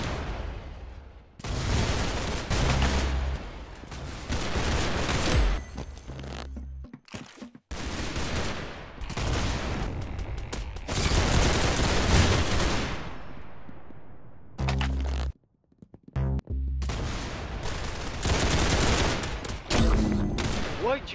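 Rapid gunfire from the Roblox Arsenal video game, dense loud bursts of shots and fusillades that come in long stretches broken by brief silent gaps, close and dominant with no clear talking.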